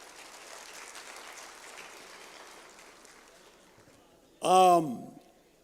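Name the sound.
audience applause welcoming guests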